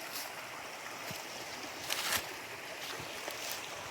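Babbling brook water at High Shoals Falls near Hiawassee, Georgia, rushing in a steady, full wash of noise close by, with small splashes and a brief louder surge midway; no voices.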